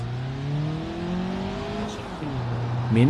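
Simulated Daewoo Matiz in BeamNG.drive hums along quietly, its small engine tone rising gently, dipping briefly, then picking up again with a faint tire noise near the end.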